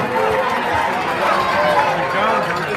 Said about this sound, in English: let's just give every contestant a loud round of applause